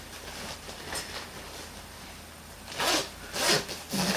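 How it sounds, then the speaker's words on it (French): A coat zipper pulled in three quick rasping strokes near the end, preceded by soft fabric rustling; close and fairly loud, no talking. "vous pouvez fermer avec une fermeture éclair ici."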